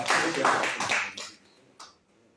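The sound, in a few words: round of applause for Rotarian Olubukola Balogun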